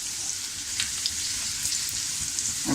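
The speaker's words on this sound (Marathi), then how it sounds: "फक्त त्याचा खमंग वास सुटेपर्यंत त्याला आपण परतून घ्यायचं आहे।" Masala for bread pakoda sautés in a pan with a steady, fairly soft sizzle and light stirring scrapes, no talk.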